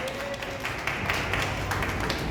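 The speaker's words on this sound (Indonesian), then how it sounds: "Beri tepuk tangan semua biar kita semangat" Audience clapping at a parents' talk show for International Autism Day. A brief tone opens it, then steady broadband applause swells and holds from a room full of people.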